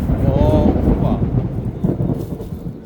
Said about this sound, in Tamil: இடியும் முழங்க தொடங்கிட்டு இடைக்கிடக்க முழங்குது பாருங்க.